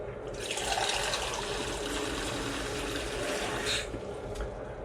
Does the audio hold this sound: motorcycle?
no